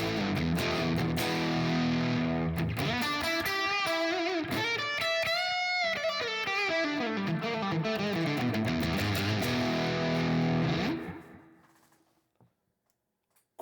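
A 1964 Telecaster played through the Line 6 POD Express dynamic amp model, a loud, distorted run of melodic notes and chords with no talking, ringing out and fading to near silence at the end.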